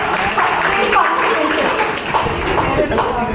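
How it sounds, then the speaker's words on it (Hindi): Loud, dense applause from an audience at a Jain religious cultural programme marking an exam day, sustained clapping with no break across the whole stretch and a few voices mixed in. "तो फिर से एक बार जोरदार तालियां हो जाए।"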